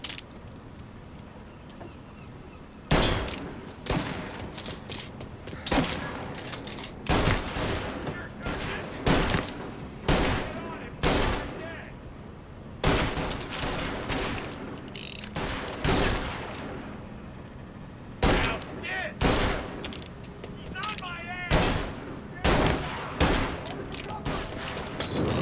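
A gunfight at the docks in Mafia: Definitive Edition, with loud sharp gunshots bursting in irregular volleys and clusters over a low ambient rumble, and shouting voices breaking in between shots.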